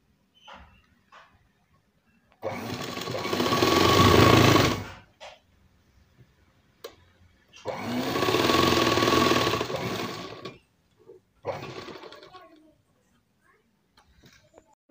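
A sewing machine runs a double seam on a churidar in two sustained stitching runs of about two seconds each, close and clear, with quiet clicks and handling between them.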